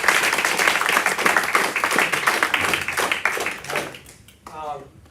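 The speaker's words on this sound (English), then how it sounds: "let's give them a round of applause." A school audience at a fall sports awards event gives a round of applause, with dense clapping running under and alongside a speaker's voice before it thins out near the end.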